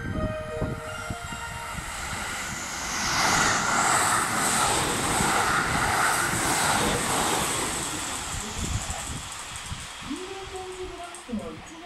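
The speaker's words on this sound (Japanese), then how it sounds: "まもなく1番線を列車が通過します。" A 681 series Shirasagi limited express train passes through Kiyosu station on track 1, a rising rush and rumble that swells loud as it goes by, with a station announcement voice underneath.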